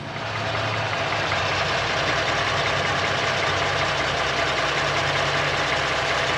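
A 2020 Ford Raptor truck engine runs steadily at idle, a constant close, loud drone with no change in pitch and no voices.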